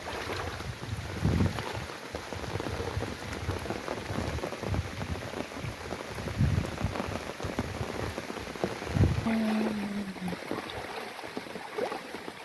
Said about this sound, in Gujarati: હજુ બહુ વરસાદ ચાલુ જ છે અત્યારે